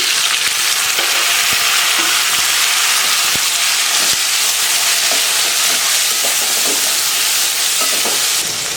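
Tomatoes and whole green chillies frying in a pan for chicken and green peas gravy, a loud dense sizzle with intermittent stirring scrapes and ladle taps, close and steady throughout.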